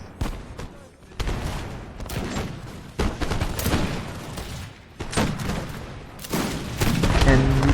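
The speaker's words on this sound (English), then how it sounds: "let's see some gunfight here" Musket volleys crack out in a Napoleon Total War battle, as massed line infantry, Old Guard among them, fire in repeated loud bursts of overlapping shots separated by brief lulls, under a faint din of battle.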